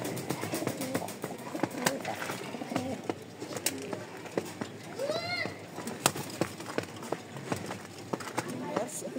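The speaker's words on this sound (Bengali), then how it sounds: "একজোড়া লাল গররা কবুতর দেখাবো আপনাদেরকে।" A pair of red Gorra pigeons coo close by, one clear rolling coo standing out midway amid scattered taps and clicks, with a voice talking over parts of it.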